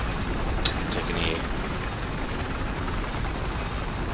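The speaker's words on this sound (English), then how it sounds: "Transport chopper landed above A." A transport helicopter in the video game Battlefield 4 gives off a steady, distant rotor and engine drone that holds evenly under the game's ambient noise.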